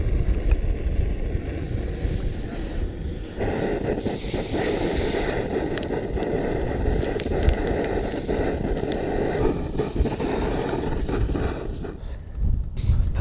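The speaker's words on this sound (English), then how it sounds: "Again, struggling in the wind a little bit." Wind gusting across the microphone outdoors on a hike, a steady broad rumbling roar that runs the whole time, strongest at the start and end, with faint handling noise and no clear speech.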